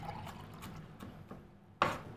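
Milk poured into a glass for thin pancake batter, a brief soft liquid trickle and fill, quiet and close, ending with a sharper splash.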